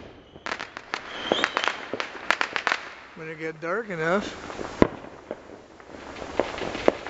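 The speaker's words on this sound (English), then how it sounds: "Neighbor said he was going to start shooting off his firework" Fireworks set off by a neighbor in a residential street pop and crackle as a rapid series of sharp bangs at a moderate distance, with one louder report later, while a person speaks briefly.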